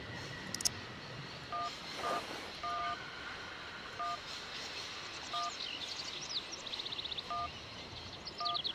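Telephone keypad tones dial a number in a video game, about eight short, evenly pitched beeps spaced irregularly, over a faint background of ambient game noise and chirps.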